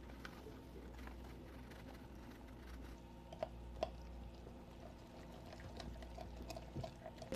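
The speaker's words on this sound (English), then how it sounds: "I'm gonna put warm water in it to hopefully reactivate it a little bit faster" Warm water pouring into flour for a sourdough starter, a quiet, continuous liquid trickle with small splashes and clinks near the end, recorded close up in a home kitchen.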